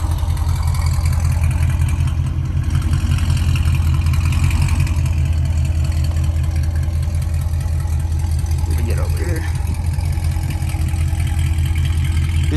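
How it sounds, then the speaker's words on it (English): A Chevrolet Camaro's pushrod V8 idles steadily close by, a deep, even low rumble that runs throughout with a faint rise partway through, while people talk over it. "These push rod motors sound so good"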